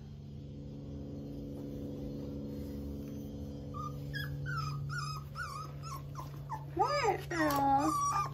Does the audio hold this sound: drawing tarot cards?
no